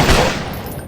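Dense burst of gunfire from the Silent Fogs: Echoes of Evil video game, a loud rapid volley at the start that decays into a rumbling tail under a second long, with no talking.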